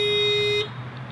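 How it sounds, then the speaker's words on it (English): Horn of a 2018 Honda Fit Sport set off by the panic button: a single loud, steady electronic blast lasting about half a second, then it cuts off, with no talking. "So it's just going to flash the lights and beep the horn."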